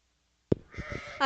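A spring ewe lamb bleats at an open wool and meat breed sheep show at a state fair: one short, sharp bleat, then a stretch of quieter bleating, and a second louder bleat breaks in at the end.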